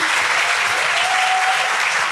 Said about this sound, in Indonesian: Kasih tepuk tangannya dong teman-teman.